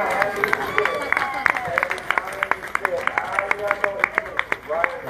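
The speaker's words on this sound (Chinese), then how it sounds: "大家听到现场的掌声都听到了" A crowd applauds at the final of a model car race, with sharp claps popping out at irregular intervals over a background of continuous clapping and crowd noise.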